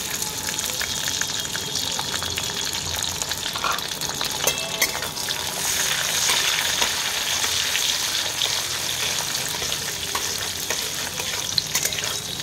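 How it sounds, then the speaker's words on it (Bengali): Cashews and raisins frying in oil with cardamom, cinnamon and cloves for mixed fried rice, with a steady crackling sizzle, scattered spatters and intermittent stirring, growing louder midway. "তারপরে এর মধ্যে দিচ্ছি কাজু আর কিশমিশটা।"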